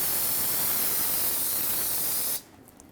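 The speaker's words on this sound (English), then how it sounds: "Now just rinse this all off with brake parts cleaner." A can of brake parts cleaner sprays a steady, close, loud hiss onto a 2004-2008 Ford F-150 front ball joint area to rinse off old grease, holding for over two seconds before stopping abruptly.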